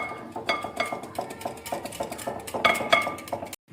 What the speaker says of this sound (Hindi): नमक और चाट मसाला हम इसमें डालेंगे, इसको मिक्स कर लेंगे